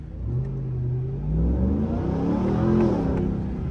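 A Ram TRX Hellcat pickup truck's engine revs and climbs in pitch while driving, heard from inside the cab, loud and steady throughout with no talk.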